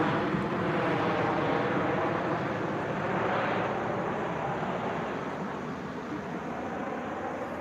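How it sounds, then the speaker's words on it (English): A fixed-wing airplane roars steadily close overhead, a loud broad engine wash that swells and then slowly eases over several seconds, with no talking over it. "Y'all saw that plane? Didn't it look like it was close?"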